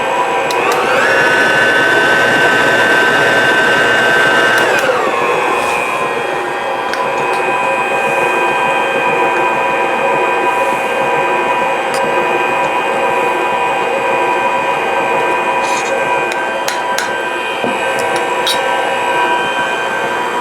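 Electric stand mixer beating cinnamon chip cookie dough, a loud steady motor whir and grinding churn throughout, with a speed change early on and faint scraping clicks toward the end.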